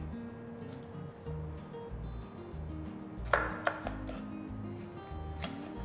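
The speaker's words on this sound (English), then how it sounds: "I'm just cutting the edges so that I don't get the seeds." Knife cutting the edges of mild chilies on a board in a kitchen, a few sharp cuts around the middle with softer taps, under low background hum and music.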